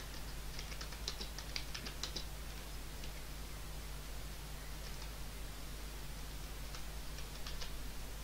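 Faint, scattered clicks of typing on a computer keyboard, irregular bursts of keystrokes over a steady background hiss with no speech.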